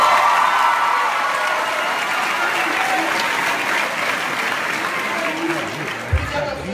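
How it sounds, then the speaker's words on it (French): A high school graduation audience in Quebec gives steady, dense applause with faint cheering, sustained at an even level throughout with some voices murmuring underneath. "Oui, on peut applaudir."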